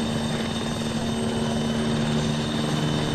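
Helicopter in a video game, a steady loud rotor and engine drone with a constant whine, holding evenly throughout with no voices.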